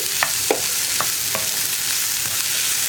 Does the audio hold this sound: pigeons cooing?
no